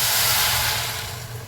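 Water poured into a hot pan with roasted onion, garlic, ginger and almonds for broccoli almond soup hisses and steams loudly, a bright continuous sizzle that slowly eases.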